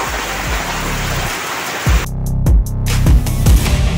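Steady rain falls outside a home garage, a dense even hiss with occasional drips and small taps that continues for the whole stretch.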